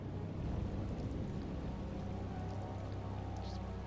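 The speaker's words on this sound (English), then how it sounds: "Just pouring rain." Steady heavy rain pours without pause in the video game Tales of Vesperia, a dense continuous hiss with low rumble beneath, no voices.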